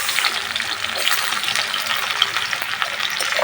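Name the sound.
dried red chillies and chopped onion frying in oil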